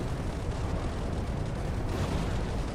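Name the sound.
artillery nuke explosions in video game ICBM Escalation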